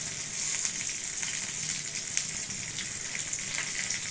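Dried red chillies dropped into hot oil for sabudana khichdi, sizzling and crackling in a steady, close, continuous frying hiss with occasional sharper pops.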